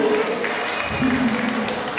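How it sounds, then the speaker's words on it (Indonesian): Congregation applause at an Easter church service, a steady wash of clapping from a crowd in a hall, with voices murmuring and a sung or spoken tone underneath. "Beri tepuk tangan untuk kolom 1."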